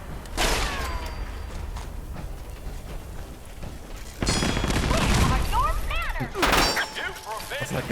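Gauss cannon gunfire in a war video game, heavy booming blasts with metallic ringing and whirring over dense battle noise, a loud burst near the start and another sustained volley midway.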